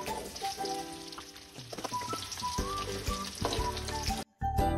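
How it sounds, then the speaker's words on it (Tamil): Garlic and small onions fry in oil in a pan for black pomfret kolambu, a close, crackling sizzle with popping bursts and stirring sounds, no voices. "பூண்டு பொரிஞ்சு வர்றது நல்ல வாசமா இருக்கும்"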